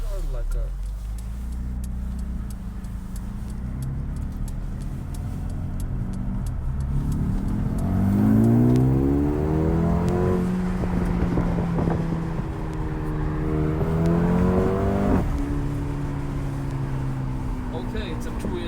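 A 2020 Mercedes-AMG CLA 35 with its M139 engine revs up and down in steady, rising and falling sweeps during a night drive, heard from inside the cabin under road and wind noise while people talk.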